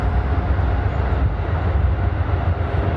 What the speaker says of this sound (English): that actually looks like a passenger train